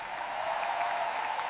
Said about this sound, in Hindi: हॉल फिर से तालियों से गूंज उठा